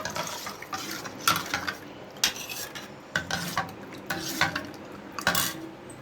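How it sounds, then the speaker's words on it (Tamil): Rinse water from a mixer jar poured into a pot of beetroot rasam, with clinks of a spoon or utensil against the vessel and soft splashing in several short bursts. "மிக்ஸி கழுவின தண்ணியும் இதில் அப்படியே ஊற்றிக்கலாம்."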